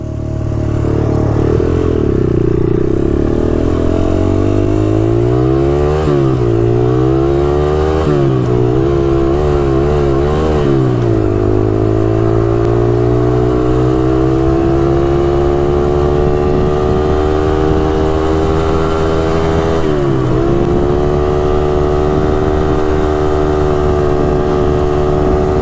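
A Honda ATC 200x three-wheeler rides on a road, its engine droning loud and close. It revs up and down through several quick shifts, then settles into a long, steady climbing pitch with wind rumble.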